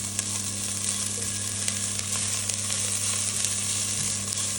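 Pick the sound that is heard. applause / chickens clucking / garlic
garlic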